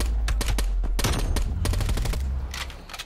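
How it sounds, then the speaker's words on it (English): Rapid gunfire in a competitive shooter game, with dense bursts of automatic shots cracking close and loud, interspersed with single reports, filling the whole moment without talk. "I just heard shots"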